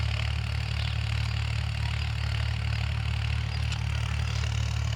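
In a field being ploughed, a tractor's engine holds a steady, loud low rumble with an even throb, unbroken and without voices.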